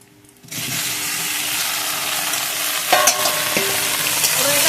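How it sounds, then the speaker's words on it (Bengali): Boiled, peeled taro roots hit a pan of hot oil with onions, bursting into a loud, continuous sizzle with occasional stirring clatter, close by and without speech. "এবার আমি কচুরমুখি দিয়ে দেবো"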